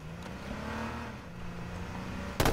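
A car engine in the video game Beyond Royal hums and revs through the clip, rising and falling in pitch, with a sharp burst of noise at the very end.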